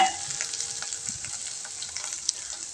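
Potatoes sauté in oil with a little coriander for a fasting-day potato dish, giving a steady fine sizzle with faint stirring scrapes, fairly quiet and close, with no talking.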